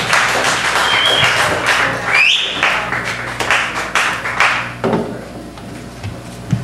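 A comedy audience applauds a stand-up comedian, loud, dense clapping that carries steadily for several seconds before thinning out into scattered claps toward the end.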